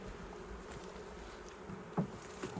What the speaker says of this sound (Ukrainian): Дуже багато бжоли.